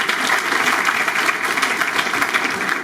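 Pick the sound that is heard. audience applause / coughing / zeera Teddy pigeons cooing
audience applause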